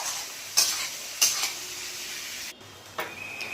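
Capsicum and onion fry in a pan for chilli chicken under a quiet sizzle, with a few short, scraping stirs close by and no voices.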